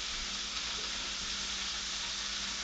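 Fajita meat for creole fajitas sizzles steadily in a hot pan, a continuous, fairly quiet hiss and crackle that holds even throughout with no voices.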